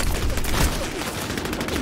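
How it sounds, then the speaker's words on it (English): Dense gunfire rattles steadily through a battle royale video game firefight, overlapping rapid shots forming a continuous loud volley with no clear gaps. "Somebody's shooting from across, too."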